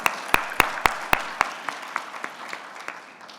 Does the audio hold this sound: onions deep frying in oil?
no